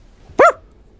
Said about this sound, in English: What was the barking for?